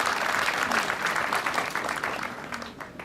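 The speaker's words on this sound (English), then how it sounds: "I would like us to clap for Professor" An audience claps for a professor, steady, full applause filling the room throughout and easing slightly toward the end.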